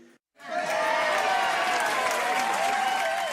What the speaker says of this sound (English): Please give yourselves a round of applause for supporting comedy throughout New Jersey.